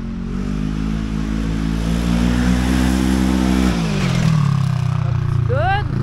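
A 2023 Can-Am Maverick Sport XRC side-by-side drives a trail with a loud, close engine drone. The engine holds a steady pitch, then eases off before rising again, with clattering over rough ground.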